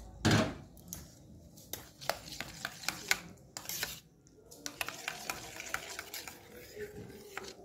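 A spoon stirs milk and water in a bowl, giving soft close scraping and sloshing strokes with little clinks at an irregular rhythm.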